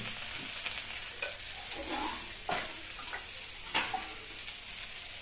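Hot water is poured into a sizzling cooking pan for a prawn malai curry with kohlrabi and flat beans, giving a soft continuous hiss and bubbling with a few sharper splashing bursts.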